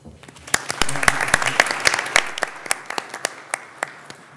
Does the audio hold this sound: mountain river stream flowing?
no